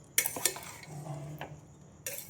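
Spoon clinks and scrapes against a pot while sweet rice with dry fruits and saffron is stirred, a few sharp metallic taps followed by a soft scraping swirl, close and fairly quiet with no talking.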